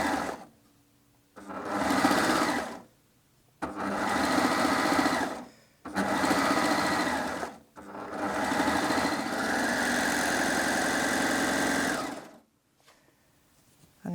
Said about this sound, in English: let's go ahead and sew that 2-thread flatlock now